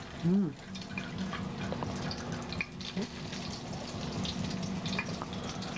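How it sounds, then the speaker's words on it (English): Eggplant slices sizzle in hot frying oil with a steady, close crackle and hiss throughout, and a voice speaks briefly near the start. "That nice little sizzle."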